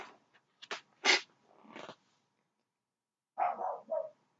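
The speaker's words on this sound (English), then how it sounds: "The dog barking." A dog barks in short separate bursts: a few sharp yaps early on, then a pause, then a final pair of barks. The sound is fairly close and moderately quiet, with no one talking.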